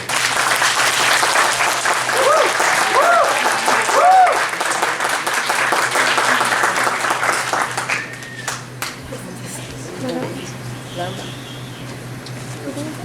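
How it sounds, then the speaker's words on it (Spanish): A large audience at a narrative practice conference applauds loudly and steadily for several seconds, then the clapping thins and fades to scattered claps and murmurs. "Un aplauso para ella, por favor."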